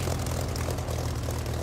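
A steady, loud aircraft engine drone from the DCS flight simulator game, with a low propeller hum held evenly and no voices.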